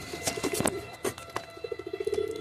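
Pigeons coo in a loft, giving soft, repeated throaty coos and bursts at close range against a quiet background, with no talk.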